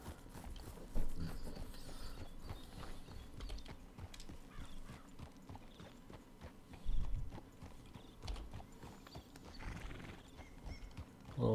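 Horse hooves clip-clopping in Red Dead Redemption 2 while riding along a trail, a steady continuous rhythmic gait with mechanical tack rattles, moderately loud and up close.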